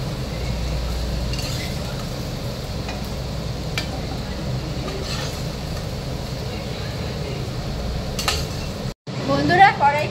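Fried stems and potatoes are scraped from a wok onto a plate, with a spatula clinking and scraping against metal over a continuous hiss of sizzling oil, ending in a brief pause and a few louder knocks.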